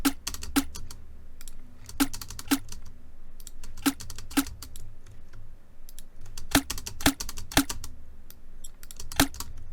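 Sharp, crisp clicks in an irregular rhythm, a processed foley sound shaped into a drum-and-bass snare hit, dry and close with no voices.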